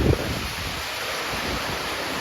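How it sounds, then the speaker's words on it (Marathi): Steady rain pours down in Pen, a dense, even hiss of falling water that continues without a break from start to finish, close by and fairly loud, with no voices. "किती मजा आली बघा पाऊस पडतोय ना."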